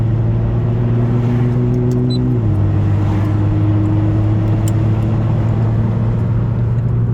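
Nissan GT-R R35 idling with a steady, deep exhaust rumble that drops slightly in pitch partway through, then holds an even drone alone with no talking.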